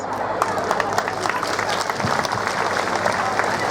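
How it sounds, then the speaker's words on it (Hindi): Applause from the audience at a divisional conference in Chapra, Bihar, a dense wash of clapping that holds steady throughout, with a voice speaking over it. "जोरदार तालियों से अभिनंदन।"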